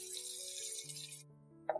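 Water pours from a tap or jug into a Zojirushi bread machine pan, a steady splashing stream lasting over a second, then cutting off with a brief trickle at the end.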